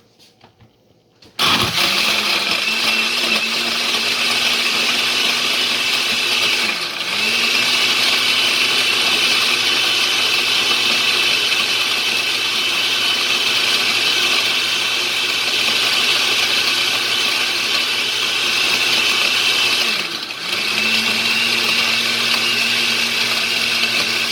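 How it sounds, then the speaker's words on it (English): A loud blender whirs continuously after a brief pause, its motor pitch dipping twice as it labors through a sea moss, ginger, soursop and dried date smoothie, then recovering. "And we're blending."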